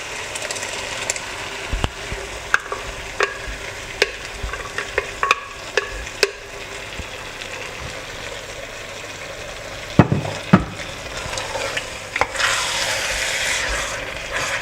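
Blended tomato and scotch bonnet sauce frying in a pot is stirred, with a steady sizzle under scattered scrapes and knocks of the spoon against the pot, no voices.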